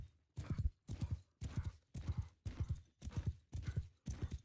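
Horse hooves gallop in Mount & Blade 2 Bannerlord, a steady run of clip-clop beats in evenly spaced bursts, loud and close with no talk over them.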